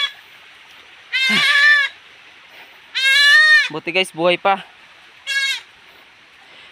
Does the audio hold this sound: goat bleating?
yes